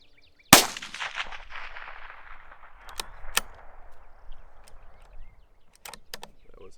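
A Bergara BMR .22 WMR rifle fires once at a 300-yard target with Hornady V-Max ammunition, a sharp crack followed by a long fading echo, then several faint distant clicks and knocks.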